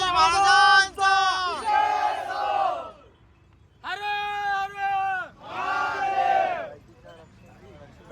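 A crowd at a Bhim Jayanti celebration shouts slogans in loud, drawn-out unison chants, several bursts separated by short pauses, close and energetic.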